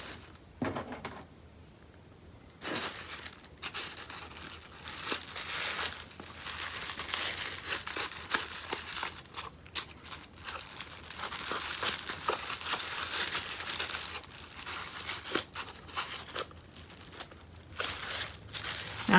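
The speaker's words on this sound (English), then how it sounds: "twist the wire so it tightly wraps around the paper." Crepe paper crinkles and rustles as wire is twisted tightly around it, a long run of dense, close crackling and crunching with short pauses, heard alone without talk.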